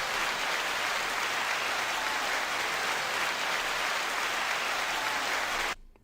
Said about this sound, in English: 9-second applause to you all.